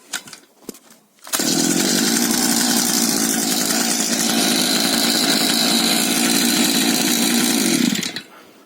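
A brush cutter's small two-stroke engine fitted with its original carburetor fires up after a couple of brief sounds and runs loud and steady at high revs for about seven seconds, then cuts off abruptly.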